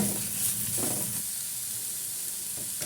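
Coconut embryos sizzle steadily as they fry in a pan, a close, even hiss of hot oil that holds through the whole stretch without any voices.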